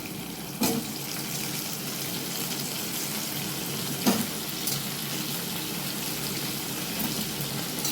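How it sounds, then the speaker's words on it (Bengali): Potatoes and onions fry in a pan with a steady, even sizzle throughout, broken by a couple of soft clunks from stirring. "যখন পেঁয়াজটা ভাজা ভাজা হচ্ছে তখনই আমি দিয়ে নেব এর মধ্যে আলু।"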